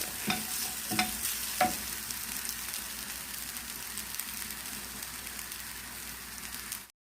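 Egg martabak with tomato and spring onion sizzles steadily in hot oil, a close, continuous crackling hiss with a few sharp utensil knocks in the first two seconds, then unbroken frying until it cuts off abruptly.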